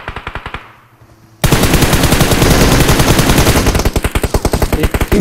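Rapid automatic gunfire rattles in a video game, loud and close, in dense rhythmic bursts, with a short pause before a sustained roaring volley that breaks back into distinct rapid shots.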